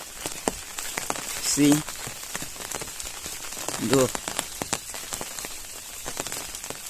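Steady rain falling outdoors near a shop during a downpour, a constant patter with street water, heard under a man's brief speech and scattered ambient clatter.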